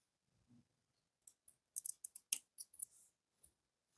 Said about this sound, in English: Now here we can cut the tail off.